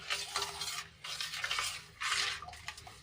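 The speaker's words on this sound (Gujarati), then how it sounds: "આ રીતે હલાવીને સાબુને આપણે સારી રીતે ઓગાળી લઈશું" Soap is stirred in a container to dissolve it for homemade dishwashing liquid, making three bursts of scraping, swishing strokes close by, separated by brief pauses.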